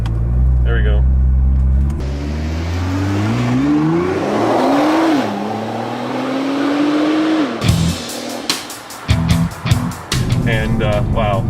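A 2015 Nissan GT-R Nismo accelerates hard in R mode, its engine note climbing through several rising pulls before cutting off abruptly, followed by sharp knocks and clatter inside the cabin.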